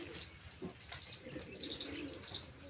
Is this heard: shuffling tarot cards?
no